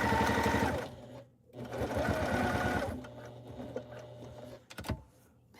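A sewing machine stitches across a tote bag strap in two rapid motor bursts, broken by a brief pause for pivoting, followed by quieter handling and a few clicks near the end.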